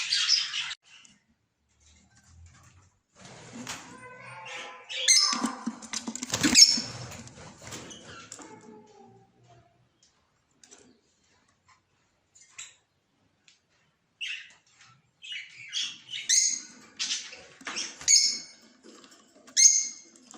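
An albino red-eye breeder pair of parrots in a cage gives short, high chirps and squeaks in scattered bursts, separated by quiet stretches.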